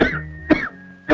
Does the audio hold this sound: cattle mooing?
no